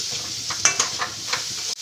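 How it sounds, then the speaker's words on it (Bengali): Vegetables frying in a pan with salt, turmeric and red chili powder: a continuous close sizzle broken by a few sharp spatula scrapes and clinks as they are stirred. "ভালো করে আবার আমি এটাকে ভেজে নিব"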